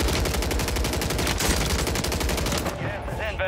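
Rapid automatic gunfire from a Call of Duty shooter, dense continuous bursts filling the foreground for about three seconds before easing off into scattered game effects.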